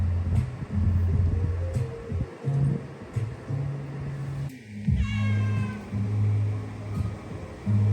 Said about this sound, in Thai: แมวนะครับทุกคน แมว